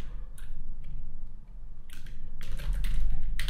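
Computer keyboard keys pressed for a shortcut, a few sharp clicks and a quick cluster of taps near the end, close and crisp over a low background hum.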